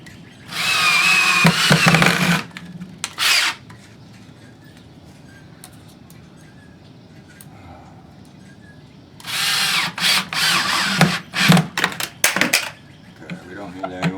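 A power drill drives screws into pallet wood for a bench, in two loud, close whirring bursts separated by a quieter stretch with small clinks and handling noises.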